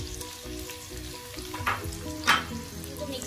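Sliced onions frying in half a cup of hot oil for a mutton karahi give a steady, loud sizzle with occasional crackling bursts, heard alone without talk.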